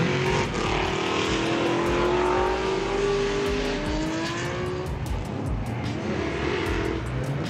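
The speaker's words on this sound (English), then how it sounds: "I believe that car's got a 350 carbureted small block under the hood." Drift car with a carbureted 350 small-block V8 at a night drift event, its engine revving hard in long rising and falling sweeps, loud and close, with crowd noise in the background.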